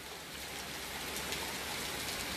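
Steady rain hisses evenly on a stormy day, a dense, continuous wash of drops with no voices or other sounds over it.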